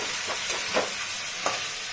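Chicken cooked with spices, for a butter chicken masala, fries in a pan with a steady close sizzle, broken by a few soft stirring scrapes spread across the moment.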